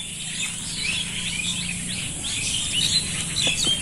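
Scattered bird chirps and twitters repeat in a netted fruit orchard over a faint low drone, lively but not loud, with no voices present.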